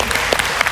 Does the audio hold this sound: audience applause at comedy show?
yes